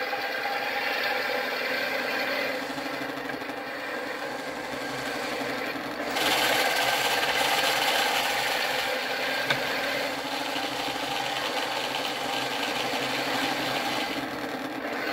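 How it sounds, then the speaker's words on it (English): A full-metal-lower 1/16 RC Sherman tank crawls slowly under stick control, giving a steady close whirring and grinding of motors and gears that holds level throughout and grows slightly louder partway through. "And using stick control, you can really make this tank crawl."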